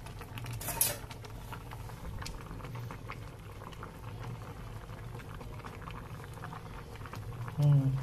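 Rice boiling in a pot on a home stove gives a steady bubbling, hissing wash throughout, with a clatter near the start and a louder burst near the end.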